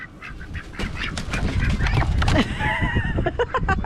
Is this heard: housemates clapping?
no